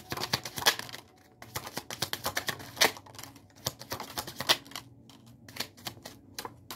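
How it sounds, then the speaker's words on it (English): A deck of tarot cards being shuffled by hand, with repeated bursts of crisp riffling and flicking clatter separated by short pauses, close and moderately loud, with no talking. "Let's do one more shuffle."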